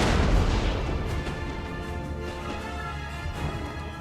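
Canister shot artillery in Napoleon Total War fires with a heavy boom at the start, then rumbles on as a dense, continuous roar of distant battle.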